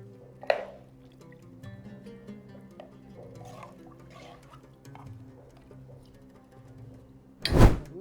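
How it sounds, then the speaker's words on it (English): Beef tagine ingredients with spices get stirred in a pressure cooker pot, giving quiet wet squishes and soft scraping, a light tap near the start and a louder knock near the end. "Mix all the ingredients. Stir so the spices are evenly distributed."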